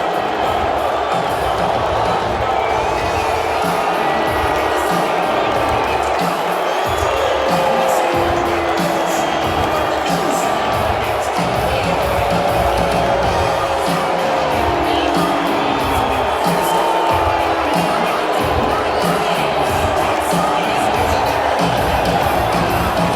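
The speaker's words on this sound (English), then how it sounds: "Here's him getting booed at UFC 244." A large arena crowd at UFC 244 roars continuously, a dense, loud wash of voices directed at Donald Trump that rises and swells throughout.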